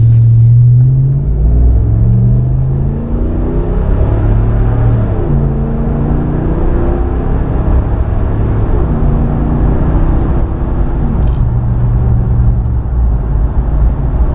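Inside the cabin of a 2009–2018 Ram 1500 fitted with a Totalflow 415633 muffler, a deep, loud exhaust rumble drones steadily, rising and falling in pitch as the engine accelerates through gear changes.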